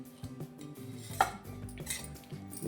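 A spoon stirs ground masala into green chilli pickle in a metal bowl, giving quiet scraping and clinking of utensil against the vessel, with one sharper ring in the middle and no talking.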